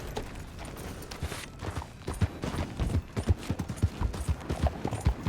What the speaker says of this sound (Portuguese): Cavalo idiota!